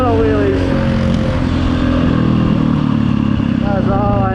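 A 2011 KTM 530 EXC dirt bike engine roars loud and close while being ridden, its pitch rising and falling with throttle over heavy wind rumble, with a rider's voice faintly mixed in.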